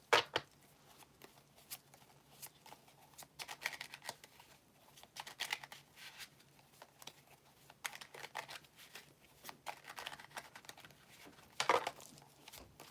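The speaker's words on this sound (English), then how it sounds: "I'm going to shuffle these real good." Tarot cards are shuffled by hand, giving soft, quiet riffling and patter in irregular bursts with brief crisp flicks, close to the microphone and with no talking over it.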